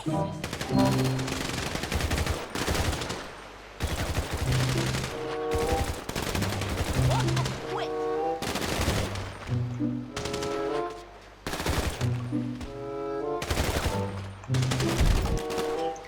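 Automatic weapons fire in a zombie survival mode of the video game GTA V, coming in loud, rapid volleys that break off briefly and start again for the whole stretch, with tonal game sounds between the bursts.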